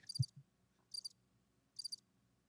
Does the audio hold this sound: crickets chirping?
yes